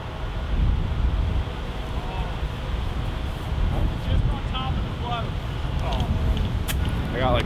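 Strong gusting wind of about 65 mph buffets a golf course, a constant heavy rush of wind noise on the microphone, with people talking intermittently over it.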